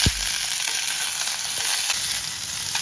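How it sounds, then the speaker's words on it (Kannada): Garlic, green chillies and raw mango frying in a little oil for a mango tambuli, a dense, continuous sizzle heard up close, with a brief knock at the start and no voices. "ಇವು ಬೆಳ್ಳುಳ್ಳಿ, ಇದಕ್ಕೆ ಸ್ವಲ್ಪ ಎಣ್ಣೆ ಹಾಕಿ ಕೆಂಪಾಗ ಹುರಿಬೇಕು"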